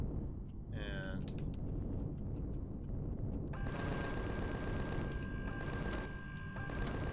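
In the sci-fi survival game Empyrion - Galactic Survival, a weapon fires in rapid, evenly spaced bursts over a constant low hum, beginning about halfway through and continuing to the end, after a brief whooshing effect early on.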